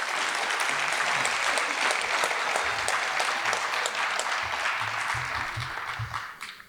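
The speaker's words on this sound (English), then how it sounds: "So a nice round of applause for all of our coaches." An audience at a high school varsity jacket night applauds the coaches, a dense, steady crowd clapping that holds loud throughout and tapers slightly at the very end.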